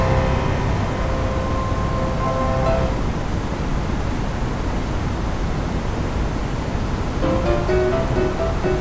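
Water runs steadily while hair is rinsed, a continuous broadband hiss with faint tonal hum from an air conditioner showing in places.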